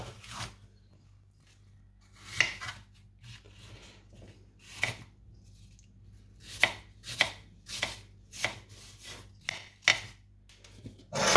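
Apples being chopped very small on a board for a Linzer-style apple cake: a series of crisp knife strikes, irregular and close by, some bursts of several quick cuts, with a low steady hum underneath and no talking.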